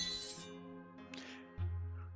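A wine glass clinks in a video game set in a noble's arena hall, one bright ringing chime at the start that fades, followed by a low thud and quiet ambience.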